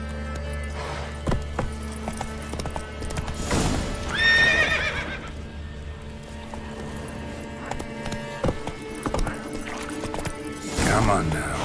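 Roach, a horse in the video game Witcher 3, galloping with rhythmic clip-clop hoofbeats and letting out a loud whinny, against a game soundscape, with a voice speaking over it.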